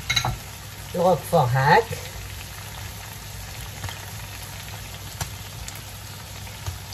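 Sliced button mushrooms frying in a pan for a Roquefort cream tagliatelle sauce, a soft steady sizzle throughout with someone briefly speaking over it near the start.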